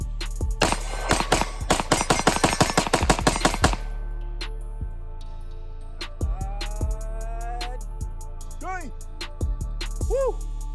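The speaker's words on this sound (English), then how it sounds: "It's time to end this thing off with a mag dump. First and foremost, the 226 Legion." A Sig Sauer P226 Legion 9mm pistol emptied in a fast mag dump: a close, loud string of about twenty rapid shots over roughly three seconds, followed by quieter clanks, rings and handling noises.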